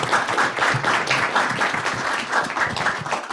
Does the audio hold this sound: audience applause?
yes